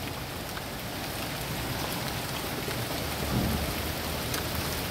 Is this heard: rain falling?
yes